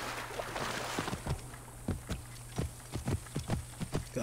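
Horse hooves clip-clop at a steady trot in Assassin's Creed Origins, a faint, regular run of hoof strikes over a soft ambient wash, with no talking.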